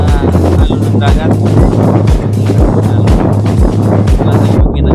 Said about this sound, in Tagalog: Tabi ng dagat, ayan guys. Masyadong hangin.